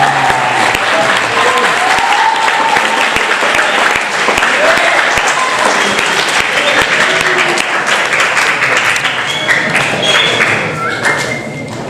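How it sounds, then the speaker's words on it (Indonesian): Audience clapping at an Islamic religious lecture, loud and sustained, many hands beating at once, with voices talking over the clapping and a slight fade at the very end. "Baik, tepuk tangan dulu, 1, 2, 3 ya."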